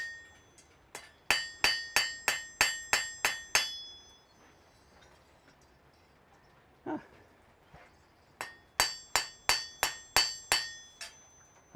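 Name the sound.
hammering on an anvil in a smithy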